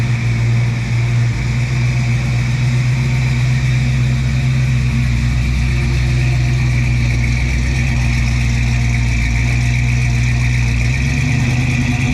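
A Ford F100 truck engine runs steadily from inside the cab while cruising on the road, a constant low droning hum with a faint shift near the end.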